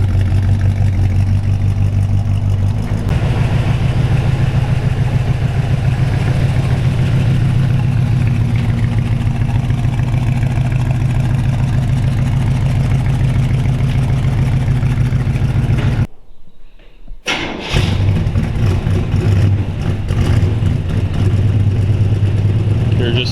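Carbureted 350 V8 in a 1972 Chevy C10 short bed with a mild cam, loping steadily at idle up close for most of the stretch, cutting out briefly before the rumble returns.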